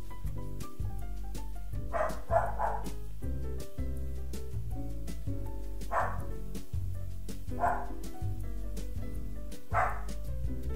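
Helga the dog barks in short yappy bursts, a few barks at a time, over a steady musical backdrop indoors, with pauses between the bursts.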